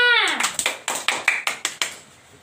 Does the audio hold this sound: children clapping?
yes